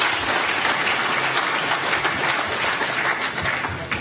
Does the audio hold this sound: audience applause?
yes